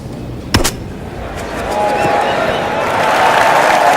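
A golf ball struck out of thick rough at a PGA Tour event: one sharp crack near the start, followed by a crowd's applause and cheering that rises and holds steady.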